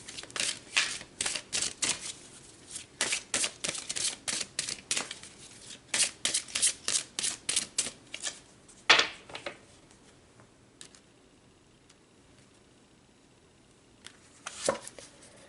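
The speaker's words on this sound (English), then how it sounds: "now we will pull these cards" Tarot cards being shuffled and pulled from the deck, heard as rapid crisp riffling bursts for several seconds, then a sharp snap and quiet handling noise, close and alone with no voice.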